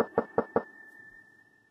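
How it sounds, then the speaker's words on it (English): Three evenly spaced knocks on a door in the video game Quest for Glory 2, close and crisp, followed by a thin steady electronic tone that lingers as the knocks fade. "No one hears your knocking."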